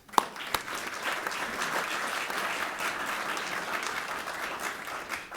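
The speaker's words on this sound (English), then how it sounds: "I think this whole preservation community should applaud itself and applaud Suffolk for that effort." Sustained audience applause in an auditorium after a talk on historic preservation, a dense, even wash of clapping from many hands that holds steady for several seconds after a sharp opening clap.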